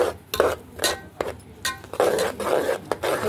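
Spoon stirring flour into a cooked coconut mixture in a pan on a switched-off stove, with repeated scraping and clinking strokes against the pan in an irregular rhythm, close and fairly loud.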